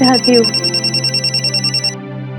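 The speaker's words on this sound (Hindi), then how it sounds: "अरे दीदी फोन बज रहा है, फोन उठा लो" A telephone rings with a fast, even electronic trill that repeats loudly and close, then stops; a voice speaks briefly over the start.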